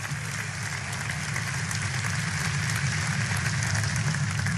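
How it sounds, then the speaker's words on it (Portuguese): A church congregation claps to glorify the Lord, a dense, continuous wash of many hands clapping at once, loud and steady from start to finish. "Pode glorificar ao Senhor com palmas."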